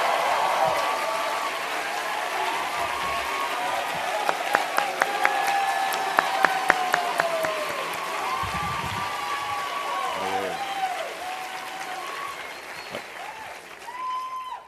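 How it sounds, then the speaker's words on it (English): Sustained applause from a commencement audience honoring a graduating class, a dense wash of clapping with scattered cheers and a few sharp claps standing out, continuing steadily for the full stretch. "round of applause for the graduating class of 2026"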